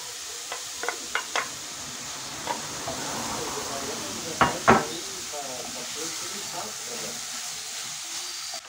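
Chopped ham is tipped into a hot pan with wilted vegetables for a baked rice dish, giving a steady soft sizzle under a few sharp clinks of a spoon against the pan.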